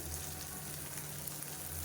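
Drumstick leaves and chopped carrot sautéing in a pan with oil, a steady close sizzle and crackle running throughout at low level with no talk.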